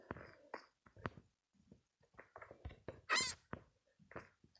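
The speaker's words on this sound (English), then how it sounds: "Come on, cat, I want to feed you." A cat in Minecraft 1.17 gives a string of short meows and chirps of moderate loudness, spaced unevenly over a few seconds. Occasional soft thumps are also heard.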